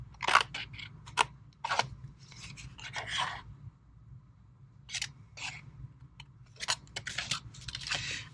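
Scissors cut cardstock along a score line, giving quiet, crisp snips in short uneven clusters separated by brief pauses.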